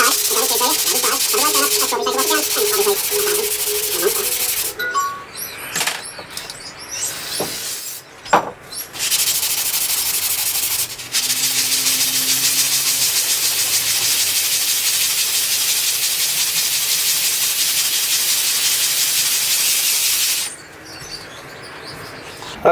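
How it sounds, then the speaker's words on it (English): Parts of a large Makita circular saw being scrubbed during restoration make a harsh, hissing, broadband rubbing that runs for long stretches, with a few brief pauses and knocks and some talking in between. "Okay, so scrubbing this isn't working."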